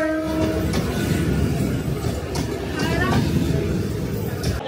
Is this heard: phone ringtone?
no